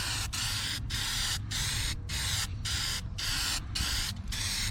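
A spray can coats a trailer axle and rim black during a pontoon boat restoration, giving loud hissing bursts near the mic, broken by short regular pauses about every half second, with no voices.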